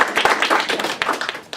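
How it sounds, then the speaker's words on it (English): A small audience claps at the launch meeting of a Bay Area Indian American Democratic club. The smattering of hands is near and moderately loud, uneven, and thins out toward the end. "a big round of applause to Dennis"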